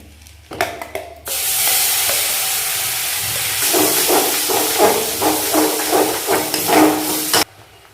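Spice paste with cumin and whole garam masala dropped into hot oil for a mixed vegetable dish, bursting into a loud, steady sizzle and spray that runs several seconds with crackling pops, then cuts off abruptly near the end.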